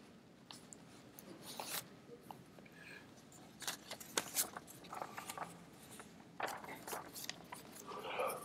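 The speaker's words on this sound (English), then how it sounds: "Now I can hear those clickers clicking." Classroom response clickers click during a lecture, scattered small, sharp plastic ticks, some single and some in quick clusters, fairly close and irregular over a murmuring room.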